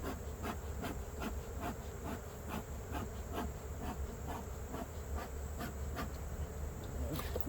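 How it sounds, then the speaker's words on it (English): Honey bees swarm around an open hive in a garden apiary, a dense continuous buzz close by with steady pulsing wingbeats and no talking. "Get these bees off the top here."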